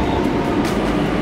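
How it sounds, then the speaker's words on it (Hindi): A train at the Lucknow railway junction gives a loud, steady rumble that fills the short moment, with dense low noise and no distinct horn or voices. "ये लखनऊ का रेलवे जंक्शन है।"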